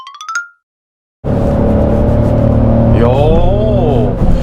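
A Genesis GV70 SUV accelerates hard in sport mode, with a loud, steady engine and road drone building continuously over several seconds after a brief sound at the start and a short silence.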